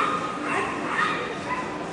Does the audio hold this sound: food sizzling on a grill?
no